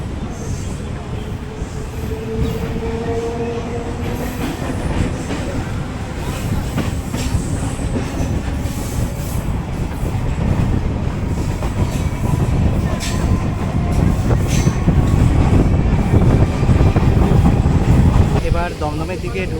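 Onboard a local train on the Dankuni–Sealdah line near Baranagar and Dum Dum, a steady loud rumble of wheels and carriages runs throughout, with high wheel squeals rising and fading and some voices faintly underneath.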